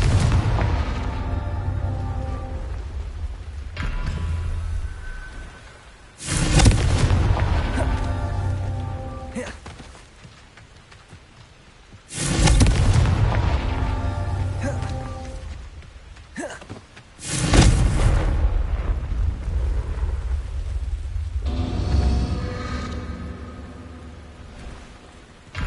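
Confringo spell explosions in the video game Hogwarts Legacy, three heavy booming blasts with rumbling tails spaced several seconds apart over a constant crackling, rain-like game ambience.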